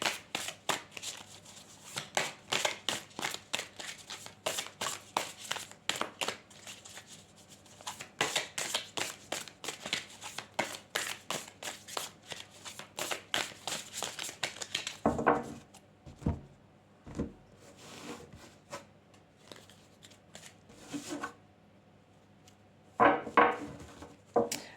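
Tarot cards are shuffled during a reading: a long run of rapid, crisp riffling and flicking bursts, close and fairly quiet, thinning into sparser slaps and taps toward the end with brief pauses.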